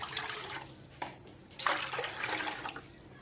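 Water pours into a pan on the stove for carrot murabba, a fairly soft splashing and trickling with a few louder gushes, close by and with no talk.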